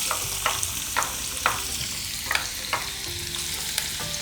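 Chopped onion and half a teaspoon of cumin seeds sauté in hot oil in a pan, giving a steady close sizzle that is broken every half second or so by sharp scraping stirs.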